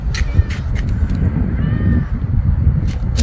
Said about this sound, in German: Da bist du ja, mein Kätzchen.